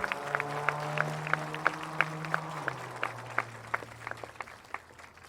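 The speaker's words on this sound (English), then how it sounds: "Let's give her a round of applause, please." Scattered clapping from an audience at a performing arts center opening ceremony, with individual claps spaced out over a sustained low hum.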